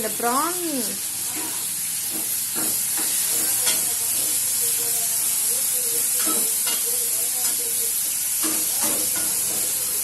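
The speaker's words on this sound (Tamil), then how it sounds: "நம்ம குட்டியாக நிறைய தக்காளியை வந்து அரிஞ்சு வச்சுருந்தோம்லையும் அது எல்லாத்தையுமே நம்ம போட்டுருவோம்" Chopped tomatoes sizzle steadily in a pan while a Tamil prawn gravy is cooked, with a constant frying hiss throughout and brief stirring clatters and short bursts of talk on top.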